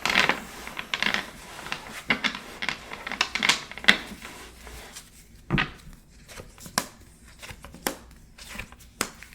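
A tarot deck is shuffled by hand in an ASMR-style setting, crisp irregular riffles, slaps and taps of cards that are close and clear, with pauses between bursts.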